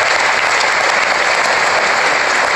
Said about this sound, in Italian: vorrei ricordarli con un applauso